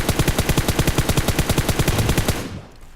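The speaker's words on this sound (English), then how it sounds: "showing you guys recoil control and going full auto" Loud, close full-auto bursts from an M4 rifle in a video game, a fast even stream of about twenty shots that cuts off and tails away at the end.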